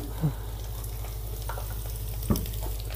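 Ginger garlic paste fries in a pan with a constant, even sizzle and faint stirring scrapes. Two sharper knocks against the pan stand out, one early and one later.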